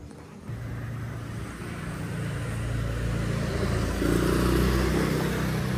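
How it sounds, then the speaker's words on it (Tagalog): A motorbike arriving on a street in Canggu, Bali, its engine a steady low drone that swells gradually as it draws closer, with no talking. "Ito yung motor ko."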